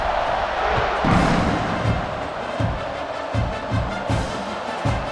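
A stadium crowd roars in EA Sports College Football 26, a dense, continuous wash of cheering with thumping swells, loud and close throughout.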